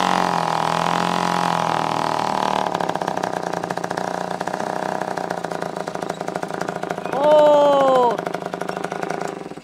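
Homemade jugaad farm vehicle with an MD engine, hand-cranked to start, runs with a steady mid-pitched engine drone throughout, with talk over it and a brief louder tonal burst near the end.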